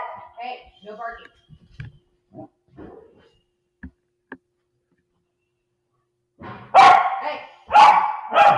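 Scattered soft sounds and brief speech give way to Ludwig the dog letting out two or three loud, close barks near the end, during a poker game at home.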